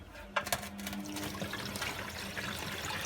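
Water rushing and trickling into a Hotpoint WMA40 washing machine as it fills, a steady moderate hiss of flowing water after a couple of short clunks near the start.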